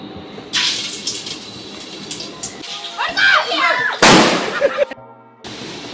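Ginger and garlic dropped into hot oil for chicken fried rice, bursting into a loud broadband sizzle and splatter that swells and fades in waves, with a sharp crackling surge near the end and voices talking over it.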